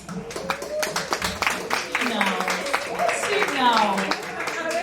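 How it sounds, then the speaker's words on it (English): Scattered audience applause at a disability workshop, patchy clapping under lively talking and cheering voices, moderately close and continuous. "A round of applause."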